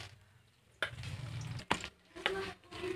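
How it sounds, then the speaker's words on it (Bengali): Katla fish pieces fry in a pan, giving a quiet, uneven sizzle that swells in short bursts, with a few sharper crackles and a brief clatter from handling, and no one speaking. "তো মাছগুলো মা এখন একটু ভালো করে ভেজে নিচ্ছে, তারপর এটা রান্না হবে।"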